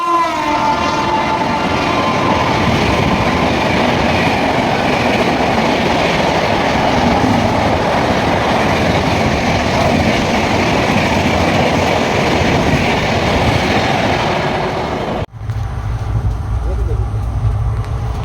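Bharat Gaurav tourist train rolling along the rails toward Nagpur at sunrise, a steady loud rumble and clatter of wagons that cuts off sharply near the end into a quieter low hum.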